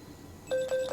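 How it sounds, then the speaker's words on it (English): A GateKeeper USB computer lock sounds a phone-style alert tone, a steady electronic ring starting halfway through, repeating in close, loud bursts with brief gaps and no speech. "And they're both ringing for me."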